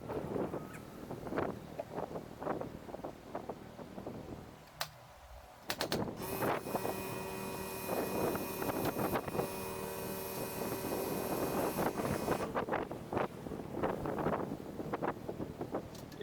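Wind gusts buffeting a microphone outdoors at a rafter installation, rumbling bursts that come and go, with a steadier stretch of tonal hum in the middle.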